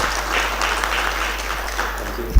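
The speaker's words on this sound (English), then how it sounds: "Another round of applause for Mr. Manata." Lecture audience clapping, a steady dense patter of applause at moderate loudness, with a low hum beneath and a bump near the end.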